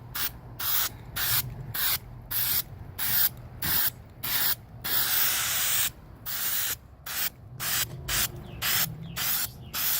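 Copper weld-through primer is sprayed from an aerosol can onto bare body metal of a 2003 Cadillac CTS quarter panel, in a close run of short hissing bursts with a couple of longer sprays.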